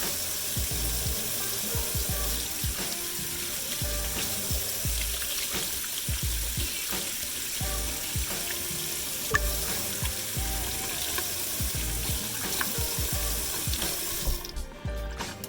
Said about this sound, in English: you need to wash your hands. Wash them for at least 20 seconds